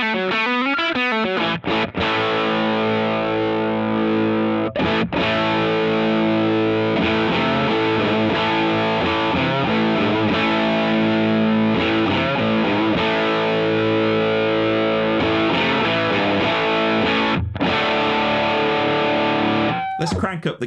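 Electric guitar played through a Crowther Hot Cake overdrive pedal with its cream switch engaged, giving a sustained, thick, distorted tone that rings continuously with chords and brief pauses, loud and up front.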